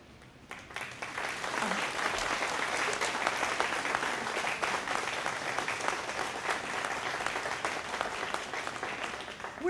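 A seated audience at a ribbon-cutting ceremony for a skilled craft training center applauds an introduced guest, steady even clapping fading in quickly and continuing throughout at moderate distance.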